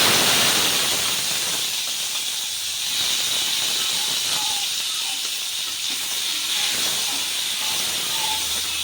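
Tomatoes fry in hot oil in a pan for an ivy gourd and tomato chutney, giving a steady, close sizzling hiss dotted with faint pops and crackles.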